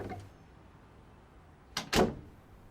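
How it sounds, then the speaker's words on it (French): A door is eased open just a few centimetres, giving two quick scraping clicks close together after a stretch of near silence. "j'entrouvre la porte, quelques centimètres, pas plus"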